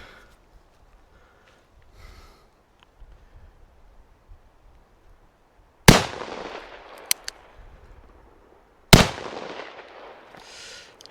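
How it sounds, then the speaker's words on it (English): Bond Arms Blackjack pistol firing rifled slugs outdoors, two sharp, loud shots several seconds apart with quiet rustling between them. "these rifled slugs are not the best"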